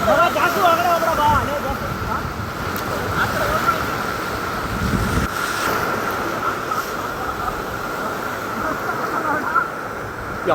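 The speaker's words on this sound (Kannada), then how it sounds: "ಯಪ್ಪ ಏನು ಅಲೆ ಬರ್ತೈತೆ." Sea waves surging and washing steadily onto Panambur beach, a loud continuous roar of surf with voices of friends talking over it.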